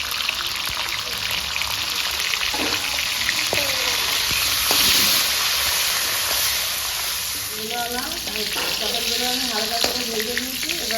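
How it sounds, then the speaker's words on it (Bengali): Pieces of pointed gourd (potol) frying in oil for Bengali potoler dorma, a steady loud sizzle throughout, with a voice talking over it toward the end. "আমি বাকি পটলগুলোও ভেজে নেব"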